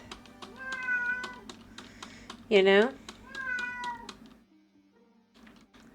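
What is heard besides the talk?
cat meowing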